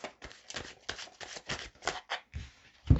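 A rapid series of papery riffling bursts, several in quick succession, close and fairly quiet, ending with a soft thump as the cards settle.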